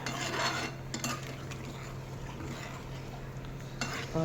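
A spoon stirs and mixes a simmering curry in a home-kitchen pot, giving steady scraping and clinking against the metal over a constant low hum, with a few louder knocks near the start and end.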